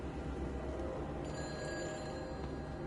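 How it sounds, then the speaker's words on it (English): A telephone rings inside a building in the video game Everybody's Gone to the Rapture, a thin electronic ring starting partway through and continuing over a steady low ambient hum. "Okay, there's a phone inside here."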